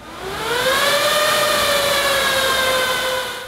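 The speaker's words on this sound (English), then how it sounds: "Sounds kind of like a jet engine with all 8 of those 92 millimeter fans spinning" Eight 92 mm cooling fans spin inside a Supermicro SuperServer 4029GP-TRT2, making a loud, steady jet-like whine. It swells up over the first half second, holds at full strength and eases off slightly at the end.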